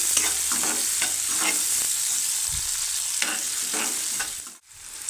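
Chopped onions frying lightly in a pan for a brinjal and peas gravy, a steady soft sizzle with repeated scraping stirs throughout, close by with no talk.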